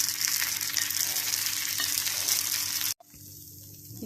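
Kambu (pearl millet) kuli paniyaram fry in a pan: a bright, steady sizzle of bubbling oil, close and continuous, breaking off abruptly near three seconds before resuming much quieter.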